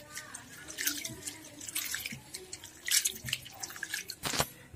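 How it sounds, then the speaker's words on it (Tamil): Water splashing and dripping as toor dal and chana dal lentils are rinsed in a bowl, with intermittent sloshing bursts and trickles close by. "ஃபஸ்ட்டு தண்ணி ஊற்றி அதை க்ளீன் பண்ணிக்கிங்க."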